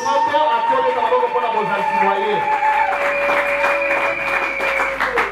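A church congregation applauds at a sermon, a steady loud clatter of many hands clapping throughout, with tonal music or voices sustained underneath.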